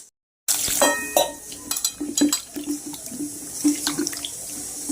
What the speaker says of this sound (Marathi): व्यवस्थित हे लिंबू सगळे धुवून घ्यायचे